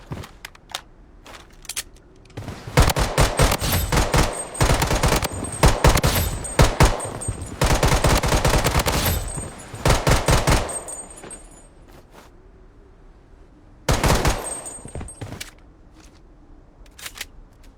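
Rapid machine gun fire in a video game comes in long, loud, dense bursts separated by short pauses, with a final burst near the end and faint clicking between volleys.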